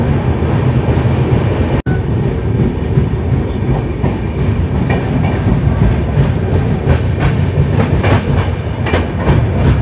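The Utkal Express rolls through a station at night with a loud, close, continuous rumble and rhythmic clickety-clack of wheels over rail joints, with no talk over it.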